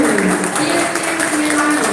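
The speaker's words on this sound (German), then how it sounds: "So, nochmal ein paar Applaus für Jason." Applause from an audience at a Brewers Cup coffee competition in 2025, a steady, close patter of clapping running the full two seconds, with a sustained tone and possible murmuring mixed in beneath.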